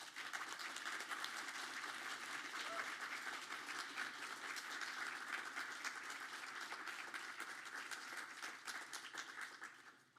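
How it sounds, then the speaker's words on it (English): Sustained applause from a gala audience at a justice center evening event, a dense, even wash of many hands clapping at moderate distance, fading slightly at the end. "Let's give them a round of applause."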